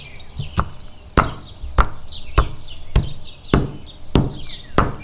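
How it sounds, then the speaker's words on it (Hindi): Coconut (20 g) chopped into small pieces with a knife: eight or nine sharp, evenly spaced chops close up, with birds chirping softly behind them. "नारियल 20 ग्राम छोटा छोटा काट लें।"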